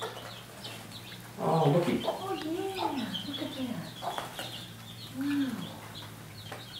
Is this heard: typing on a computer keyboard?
no